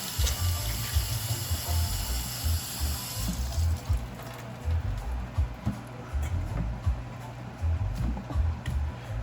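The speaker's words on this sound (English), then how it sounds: "I always wash my cabbage first before I cut it." A cabbage washed under a running kitchen tap, water splashing steadily and fairly close, with a brighter rush at the start that eases into a continuous, lower gush.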